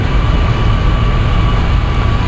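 A train in a railway simulator game speeding up, an Indian express on broad gauge, produces a loud, steady low rumble with a constant tonal hum and no breaks throughout.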